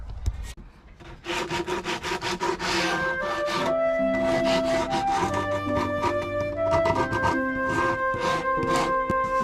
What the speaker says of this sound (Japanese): このヤスリで これちょっと削りたいと思います。